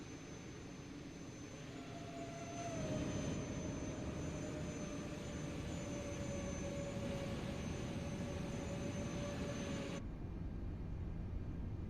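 Airbus A380 engines spool up in a flight simulator game, a steady loud jet roar with a rising whine that holds and then cuts off abruptly near the end.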